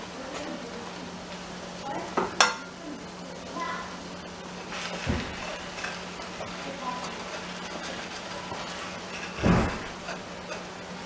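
Persian rice is stirred in a pan, with soft scraping and a light sizzle punctuated by a few sharper clacks of the utensil against the pan, fairly quiet with a low steady hum underneath.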